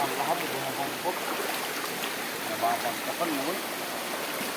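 Steady broadband rush of a mountain river flowing over rocks, continuous and fairly close, with faint voices underneath.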